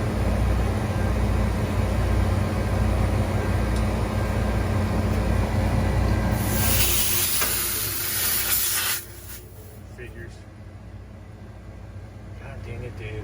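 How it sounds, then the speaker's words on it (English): Refrigerant gas hissing loudly out of walk-in freezer gauges as they are vented, a bright broad rush that starts abruptly and cuts off sharply, leaving lower background noise. "Let all my gas out."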